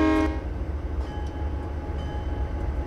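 A brief, loud train horn blast in the Railworks 3 train simulator sounds at the start, then fades into a steady low rumble with faint, sparse tones over it.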